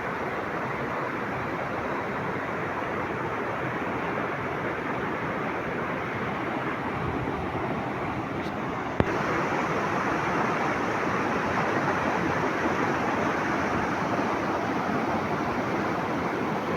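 Steady rushing water, like waves or a strong current, roars evenly and close by with no voices, its constant wash unbroken except for a slight rise in level halfway through.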